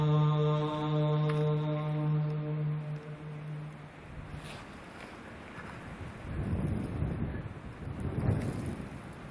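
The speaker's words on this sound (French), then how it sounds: "la tempête de neige qui s'abat sur Valam" A snowstorm sweeps over Valaam island as a rough roar of wind, with gusts swelling and buffeting toward the end. A steady harmonic tone fades out over the first few seconds.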